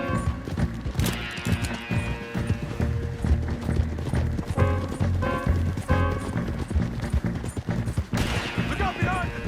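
Horses gallop in Red Dead Redemption 2, a loud, fast clip-clop of hooves running steadily under scattered gunfire and shouting voices.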